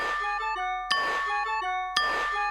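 A cartoon sensor gadget chimes a musical bell melody resembling Carol of the Bells, with clear, bright descending tones repeated in two phrases, each starting with a sharp ding, loud and alone.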